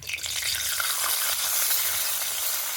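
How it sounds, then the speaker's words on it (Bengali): Peanuts fry in white oil in a wok while being stirred: a dense, steady sizzle with scraping stir strokes, close and continuous, with no talking. "এবার তেলের মধ্যে নিয়ে নেব কিছুটা চিনেবাদাম।"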